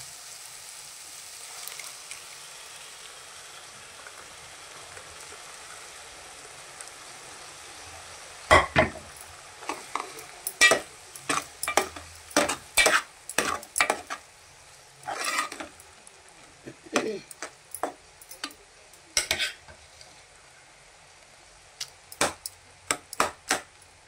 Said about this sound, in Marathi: आणि पुन्हा एकदा असं व्यवस्थित मॅश करून घ्यायचं